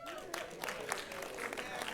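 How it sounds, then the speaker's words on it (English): Audience applause at an indie film awards show, a faint, distant patter of clapping with scattered louder claps and a tonal murmur underneath. "So give a round of applause for you guys."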